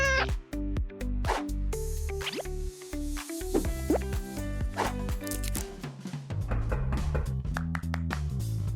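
A rescued homeless kitten meows repeatedly in short, close cries over a busy backdrop of plops and drips.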